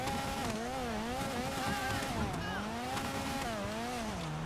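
A car engine in GTA 5 Online revs and shifts continuously while driving in snow, pitch rising and falling through the gears, loud and steady with no talk.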